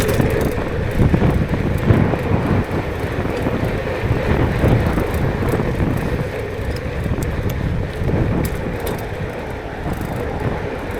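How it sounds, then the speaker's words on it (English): Strong westerly headwind buffets the microphone while cycling east, a loud continuous roaring rush with gusty surges that persists throughout without speech. "That's really strong winds heading east here."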